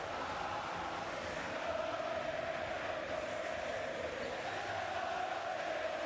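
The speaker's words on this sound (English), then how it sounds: "Think the crowd's into it?" A basketball arena crowd at the Rio 2016 Olympic men's game between Spain and Argentina roars in a steady, dense wash of cheering and shouting, distant and sustained throughout.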